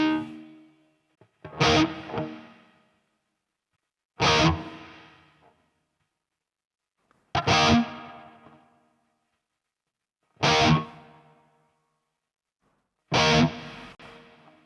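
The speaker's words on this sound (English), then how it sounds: "So plate is my favorite one." Electric guitar played through a ToneX ONE pedal with plate reverb: five separate struck chords at even intervals, each a bright attack followed by a smooth reverb tail that fades to silence before the next.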